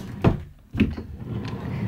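A dresser drawer slides and bumps shut twice in a home bedroom, two short wooden knocks half a second apart followed by a softer rustle, close and fairly loud with no talking.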